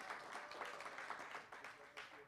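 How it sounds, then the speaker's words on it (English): Crowd applause for the Minister of Tourism at a Civil Service Week quiz competition, dense steady clapping from many hands throughout, fairly distant with mild swells. "Come on, let's give a bigger round of applause for the Minister of Tourism."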